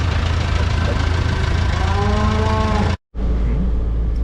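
Cattle moo repeatedly on a working farm during cow sorting, several drawn-out calls close by over a steady low engine idle, with a brief cut near the end.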